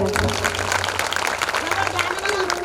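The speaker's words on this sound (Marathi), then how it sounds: "एकदा जोरदार टाळी वाजवा" An audience applauding at a Shiva Purana religious discourse gathering, dense clapping throughout that sits under someone talking over it.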